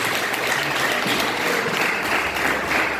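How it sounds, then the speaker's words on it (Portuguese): A church congregation applauds for the Lord, a dense, continuous wash of clapping filling the whole stretch at steady loudness, with no clear speech. "as palmas para o Senhor."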